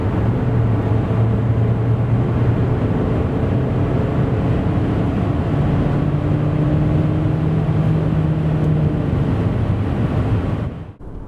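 Steady drone of an MG HS Hybrid+ 1.5 hybrid car accelerating from 90 to 140 km/h, with a low engine tone rising slowly under constant road and wind noise.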